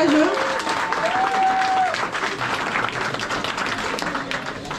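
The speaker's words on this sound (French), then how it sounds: "On peut l'applaudir vraiment super fort" Loud crowd applause at an inauguration event in Isola, sustained clapping throughout with a brief whistle-like tone and some voices mixed in.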